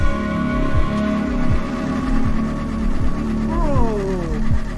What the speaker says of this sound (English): The car don't even want to start, boss?